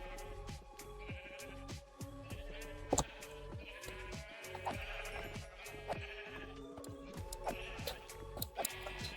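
Video game sheep bleat repeatedly in a blocky farming game, several overlapping calls rising over a steady backdrop of clicking, ticking game sounds and soft music.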